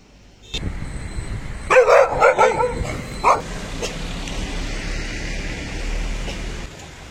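Street dogs in Goa bark in a short cluster of several quick, fairly close yaps, then fall quiet against a steady outdoor background hum.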